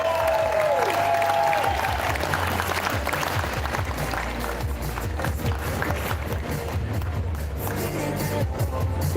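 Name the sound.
audience applause at arm wrestling final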